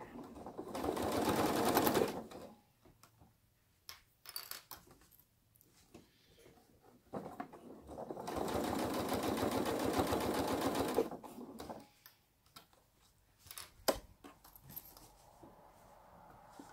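A home sewing machine runs in two long stitching bursts along a zipper on a bag made from upcycled, overdyed jeans, with quieter handling and fabric rustle between the runs and no talk.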